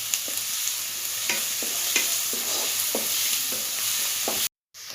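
Sliced onions fry for a tapioca masala in a pan, a continuous close sizzle punctuated by regular spatula taps and scrapes about every half second, then cut off abruptly into silence.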